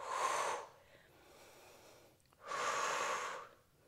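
Pilates breathing: two long, strong breaths through the nose, each about a second, separated by a quieter pause, close and alone.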